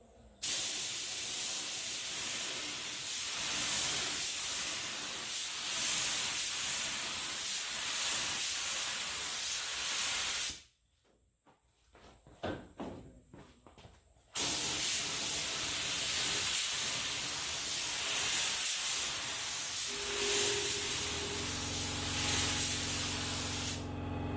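Black paint sprayed from a spray gun as a second coat on a classic Mustang rear bumper, a loud continuous close hiss for about ten seconds, a brief pause with small clicks, then another long hissing pass ending with a low rumble.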